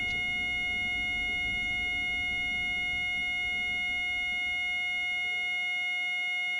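Train Simulator's AWS warning alarm sounds in the cab of a Class 313 electric unit on the Liverpool Street to Gidea Park route: a steady, unbroken high electronic tone held throughout over a low rumble of the slowing train.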